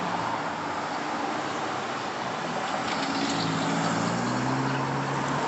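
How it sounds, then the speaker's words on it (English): Steady street traffic rolls past as a continuous broadband roar of cars and engines, fairly distant and unbroken, with a low engine rumble rising slightly toward the end. "sorry about the car noise"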